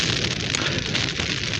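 Heavy rain falling on a tent at a wild camp in the Peak District: a dense, steady hiss and patter that drums close and loud without a break.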